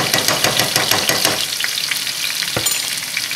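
Minced garlic frying over medium-high heat in a pressure cooker, a loud close crackling sizzle with a quick rhythmic run of stirring scrapes, then steady hissing and a single sharp clack.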